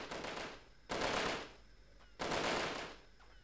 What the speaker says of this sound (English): I can hear some bullets ricocheting here and there